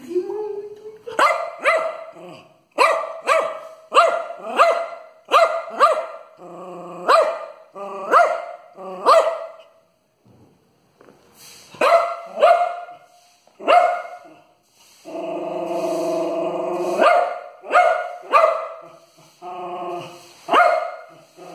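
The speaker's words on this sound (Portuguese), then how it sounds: "Cachorro bravo com a vassoura" Dog barking angrily at a broom in repeated sharp bursts, loud and close, with growls between barks and a long sustained snarl midway; brief gaps of quiet separate the volleys.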